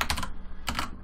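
Typing a Maven command on a computer keyboard, two short bursts of quick key clicks separated by a pause, close and fairly quiet.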